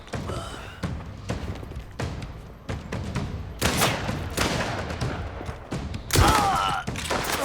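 Gunfire in the video game Mafia: The Old Country: repeated sharp shots and bursts, loud and close, scattered across the whole stretch with brief gaps, and a louder cluster near the end.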